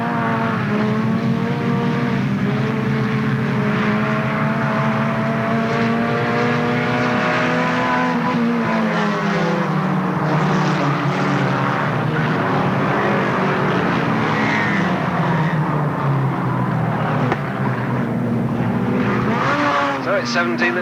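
Race cars roar loudly and continuously at Alwalton Raceway as the field gets going again on a restart, engine notes rising and falling through gear changes, with several cars passing close and a commentator talking over the din.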